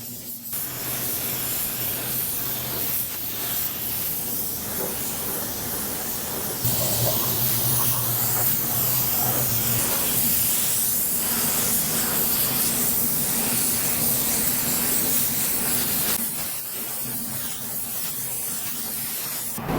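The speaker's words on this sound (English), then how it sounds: "listen in to the sounds of the spray gun spraying some clear coat" Steady, broadband hiss of a spray gun laying down clear coat over a pearl red paint job on a 1992 Honda Civic VX, continuous for the whole stretch with a brief surge midway and a slight drop near the end.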